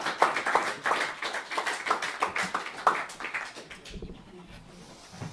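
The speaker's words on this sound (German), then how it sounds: "gib einen Applaus" Clapping from a small audience on a pirate-themed stage show, individual claps in a quick irregular rhythm, fairly close, thinning out and fading after about four seconds.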